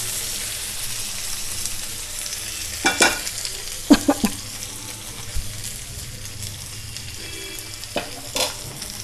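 Cooked mutton is stirred and fried in a pan on a low flame: a steady soft sizzle with a few scraping spoon strokes clustered midway and near the end.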